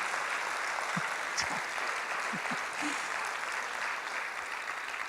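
Audience applause fills an auditorium at the start of an architecture award ceremony, a steady dense wash of clapping that stays even and continuous, with a few faint voices underneath.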